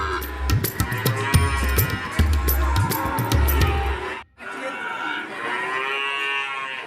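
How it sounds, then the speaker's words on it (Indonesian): Cattle, including Limousin, local and dairy breeds, moo repeatedly at a cattle market, loud and close, with several overlapping low calls followed by more distant mooing. "Berbagai jenis sapi di sini ada teman, baik sapi limosin, sapi metal, sapi lokalan, sapi perah"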